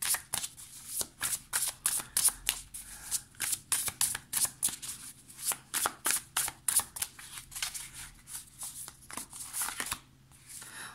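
Tarot cards shuffled by hand in a quiet room, a long run of quick riffling bursts repeating in a steady rhythm, close and clear with no talking.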